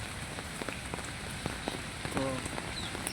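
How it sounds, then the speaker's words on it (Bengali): Heavy rain falls on a rural area where cattle are led to graze, a steady close hiss of rain on surfaces with scattered louder drops tapping, no one speaking. "দেখছেন যে খুব বৃষ্টি হচ্ছে"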